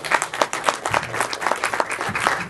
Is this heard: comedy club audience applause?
yes